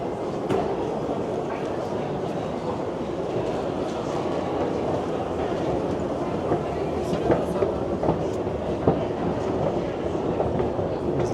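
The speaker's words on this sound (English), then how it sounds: "how you get to Dundas subway station" Rumbling subway train noise fills Dundas subway station in Toronto, with rattling wheels and clatter under a steady roar and some faint voices mixed in.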